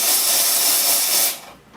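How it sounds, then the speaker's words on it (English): The steam wand of a Bezzera Unica espresso machine blasts a loud, steady hiss of steam, close and continuous, then tapers off sharply near the end. "for steaming, again, you go to steam mode. There is the lever activated steam control"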